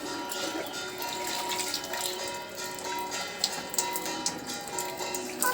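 Water poured and splashing into a child's inflatable swimming pool outdoors, a steady close trickle and splash with small drips, fairly soft.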